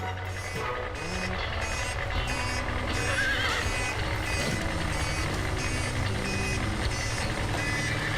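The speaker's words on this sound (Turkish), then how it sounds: "Ama avlumda bip bip sesi istemiyorum." Steady repeating reversing beeps from a truck ring out continuously, mixed with horse whinnies and a low engine rumble in the background.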